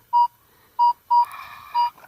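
A metal detector sounding near a lake while hunting old homesteads: four short, clear, identical beeps at an even pitch, loud and close, with a brief burst of rustling noise between the third and fourth tone.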